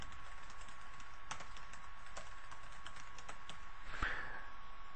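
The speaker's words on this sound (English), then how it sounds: "And you can type in whatever password." Password being typed on a computer keyboard: light, scattered key clicks at a steady but irregular pace, faint under a constant electrical hum, with one slightly louder tap near the end.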